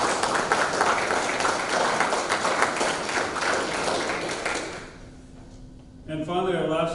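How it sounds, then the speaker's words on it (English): A dense round of applause from the audience at a peace officer basic academy graduation ceremony, loud and sustained for several seconds before fading out, then a voice speaks. "I would also like you to give a round of applause to Ms."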